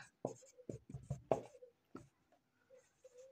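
A marker or chalk writes a math solution on a classroom board in a string of short, scratchy strokes with brief pauses between them, close and clear with no talking.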